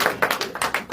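A church congregation claps in response to a call to acclaim the Lord, with several bursts of hand claps in quick succession, close and fairly loud, and no voices over them.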